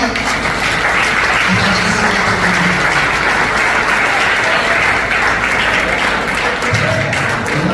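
A church congregation applauding during a service, loud sustained clapping filling the room continuously, with voices and a low tone showing faintly underneath.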